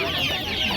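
Homemade chicks at a poultry bazaar in Mingbuloq cluck and peep steadily in a dense, close cluster, a brief continuous chatter of many birds.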